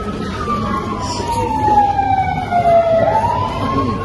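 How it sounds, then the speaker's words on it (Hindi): An emergency vehicle siren wails outside a house, a single long sweeping tone that slowly falls and then rises, loud and steady over low rumbling background noise. "बाहर पुलिस की गाड़ी आई है।"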